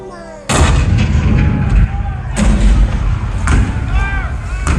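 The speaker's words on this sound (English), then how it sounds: "The cannon spoke for war, bitter, violent, and devastating." Heavy cannon blasts boom in a few loud, spaced bursts, each with a deep rolling rumble, while voices can be heard faintly underneath.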